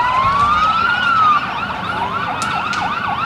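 Police siren from a Kenosha motorcycle squad riding in a civic veterans parade, a rising wail that gives way to quick repeating yelps, loud and close throughout with no talking.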